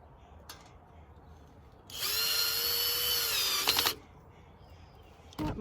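A power drill drives a screw into a metal bean arch, one loud two-second whir that rises and cuts off. Quiet surrounds it, with a brief tap before and after.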